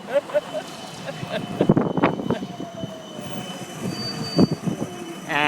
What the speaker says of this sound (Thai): รถราง